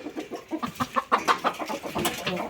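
Several chickens kept at a family farm cluck and murmur in quick, overlapping bursts, fairly close and steady through the moment with a faint bit of background noise.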